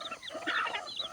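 Chickens clucking close by, a run of short overlapping calls filling the brief moment with no voices over them.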